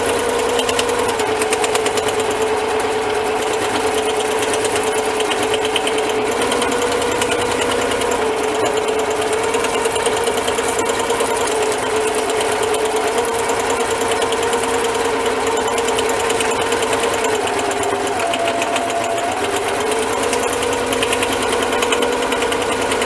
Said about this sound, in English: So I sewed around 3 times